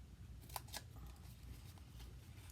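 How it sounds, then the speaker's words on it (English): Scissors snip through a papercraft piece for a Stampin' Up! 3D gift item, giving two quick close crisp cuts early on over a low steady room hum. "And then we're going to snip this."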